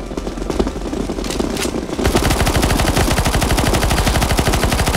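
Rapid automatic gunfire in the video game CS:GO Zombies on a Deadcore extreme-mode map; sparse shots and game noise give way to a loud, sustained, evenly spaced burst of fire that runs to the end.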